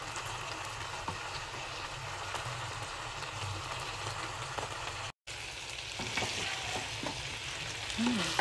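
Garlic sizzles steadily in a hot pan while being stirred for Filipino adobo, a continuous close frying hiss with occasional spoon scrapes and no talking.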